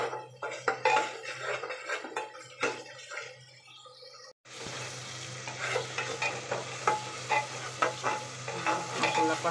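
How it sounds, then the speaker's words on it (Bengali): Spices sautéed in oil in a pan for a meat and bottle gourd curry: rhythmic scraping strokes of a spatula over a frying sizzle, with clinks against the pan, a brief near-silent break midway, then louder busy stirring resumes. "মশলা কষানো হয়ে গেছে"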